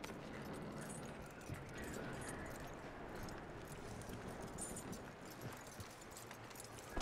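Horse hooves clip-clop in a video game streamed on Google Stadia, a faint continuous patter under a steady wash of background noise with no talking.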